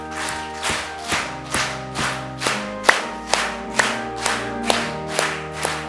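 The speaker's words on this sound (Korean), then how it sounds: "한번 박수 치면서 한번 불러볼까요?" A church congregation claps in a steady beat, about two claps per second, while singing a hymn together during an afternoon worship service; the voices hold sustained melodic notes under the rhythmic, fairly close clapping.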